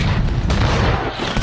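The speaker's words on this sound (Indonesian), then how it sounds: "Barbossa langsung menembaki Interceptor dengan meriam" Ship cannons fire in a pirate film sea battle between the Black Pearl and the Interceptor, a loud continuous booming rumble with sharp bursts layered over a dense low roar, close and dominant.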